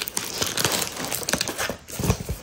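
Damaged cardboard from a return package crinkles and crumples as it is pulled open by hand, with close, irregular rustling and tearing throughout.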